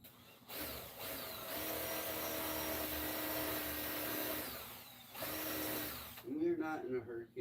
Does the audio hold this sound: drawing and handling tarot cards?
no